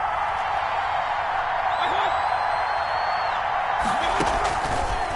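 A football video game crowd roars as a steady, dense wash of cheering building toward a big third down, with a commentator's voice faintly over it and a burst of louder crowd noise near the end.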